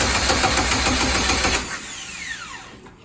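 A car engine is cranked over, giving a loud rapid whirring churn for about a second and a half that stops without catching, followed by a fading whine.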